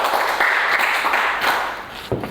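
Classmates in a classroom applaud: a short burst of dense hand clapping, fairly loud, tapering off after about two seconds.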